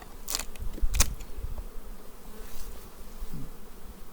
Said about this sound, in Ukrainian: Так, бджілка